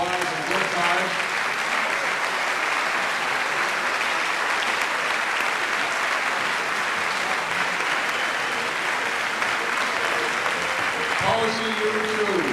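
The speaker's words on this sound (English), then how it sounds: "give them one more big round of applause" Concert audience at a jubilee concert claps for the performers in a loud, sustained ovation; a voice briefly speaks over the applause near the end.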